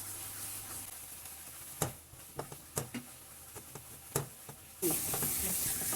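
A spoon scrapes and stirs thickening milk peda mixture in a pan, with soft sizzling between a series of distinct taps and scrapes. A louder burst of hiss comes near the end.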